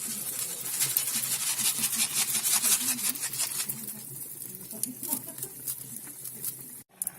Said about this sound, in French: 700 grammes de riz que l'on va délicatement poser dans la poêle